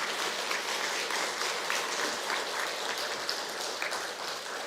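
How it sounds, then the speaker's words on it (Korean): Church congregation applauding during a Sunday morning service, a dense, steady wash of many hands clapping at moderate distance that holds evenly throughout without talk. "멋있는 남자니까 오늘 박수 한 번 더 쳐주시면 좋겠는데요"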